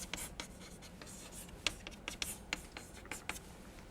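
A hand writes out an equation, scratching out a series of short, close strokes and taps in an uneven rhythm, fairly faint against a quiet room.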